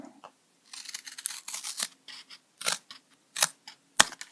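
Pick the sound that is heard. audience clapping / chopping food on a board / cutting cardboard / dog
cutting cardboard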